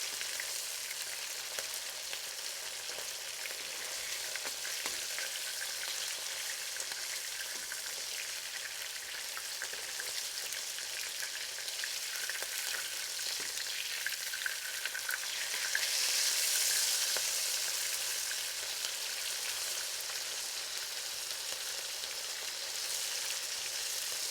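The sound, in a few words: chili shrimp frying and sizzling in a pan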